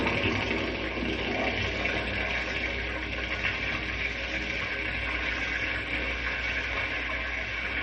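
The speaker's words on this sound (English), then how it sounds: "Now I'll turn on the water so it can run through the pipes over the model" Water rushes through pipes over a model of a muddy river's topsoil, a steady, even hiss of flow with no break and nothing else over it.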